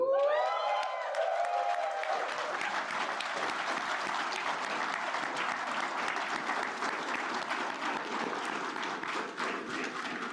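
Audience applause at an Air Force retirement ceremony, a sustained dense patter of many hands clapping steadily for about ten seconds, following a brief spoken announcement at the start.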